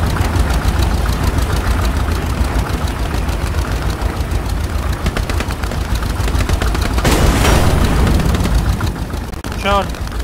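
An enemy tank engine rumbles low and continuously in the World War II shooter Hell Let Loose at Hill 400, with rapid gunfire crackling over it and voices talking.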